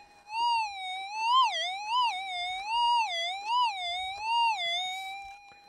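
While detecting for gold in Nevada, a metal detector's target signal rises and falls as a wavering, siren-like warbling tone, clear and fairly faint, repeating in steady swells with no talk.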